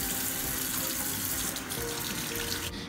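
A sink tap runs for hand washing, water pouring in a steady hiss for nearly three seconds before cutting off abruptly at the end.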